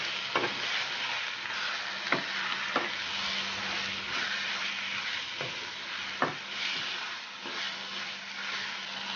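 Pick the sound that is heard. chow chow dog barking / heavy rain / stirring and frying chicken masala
stirring and frying chicken masala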